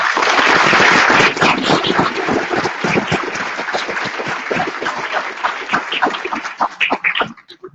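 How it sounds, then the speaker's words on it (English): A room of people applauds a professor newly promoted to associate professor with tenure at a university commencement: steady, dense clapping that starts loud, thins gradually and breaks into scattered final claps. "Let's give him a round of applause."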